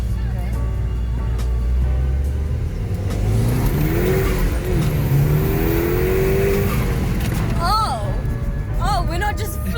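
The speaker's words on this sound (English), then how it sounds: "So this is a first gear pull" A car accelerates hard through first gear on fresh Michelin PS4S tyres, heard from inside the cabin as a loud, steady engine drone with rising tones and a change near the end. Voices speak over it.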